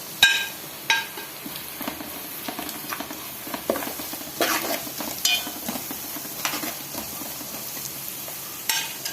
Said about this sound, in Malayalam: ഒന്ന് ചെറുതായിട്ടൊന്ന് വഴറ്റിയിട്ട് മസാലപ്പൊടി ആഡ് ചെയ്ത് കൊടുക്കാം